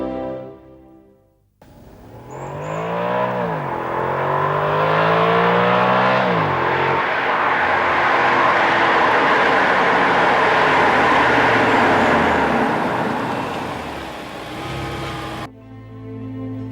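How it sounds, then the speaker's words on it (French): An Audi S6 Avant with a 5.2-litre V10, quattro drive and Tiptronic gearbox accelerates hard through several rising engine sweeps and gear changes, then settles into a loud, sustained cruising roar with heavy road noise. "Car la S6 est sacrément armée, c'est du calibre V10 qui sommeille sous le capot"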